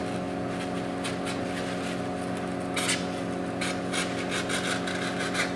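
Knife cutting into a walleye during taxidermy mounting, quiet scraping and rubbing strokes in short bursts over a steady background hum.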